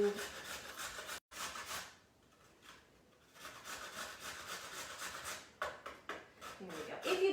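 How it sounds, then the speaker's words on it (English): A carrot rubbed against a grater gives a steady run of rasping, scraping strokes up close, with a short pause midway and a voice speaking around it. "Always be careful when you're grating."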